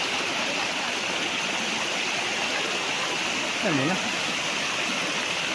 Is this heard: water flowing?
yes